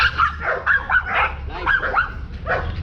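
Protection dog barking and yipping during bite training at a K9 pet-protection gathering, a close burst of rapid, excited barks and whines with a handler's brief word in between.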